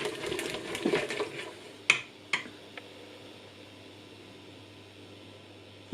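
A whisk stirs caramel sauce in a pan, with a soft scraping, bubbling texture early on followed by a few sharp metallic clinks against the pan, fairly quiet and without any talking.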